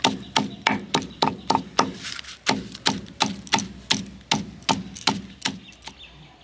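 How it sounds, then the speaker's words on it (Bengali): Guava leaves are ground by hand on a grinding stone, giving a steady series of about twenty sharp, rhythmic knocks and scrapes close by, with no talk. "এই পাতাগুলোকে আমি বেটে নেব"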